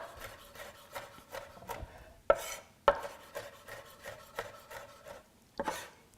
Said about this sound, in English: So finely mince this Fresno pepper